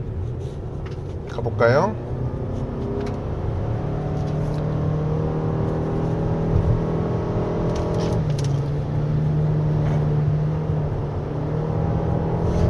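Steady engine and road drone inside a 2023 Toyota RAV4 Hybrid AWD driven in sequential manual mode on a wet winding mountain road, with rising and falling engine tones as it shifts, and someone talking over it briefly.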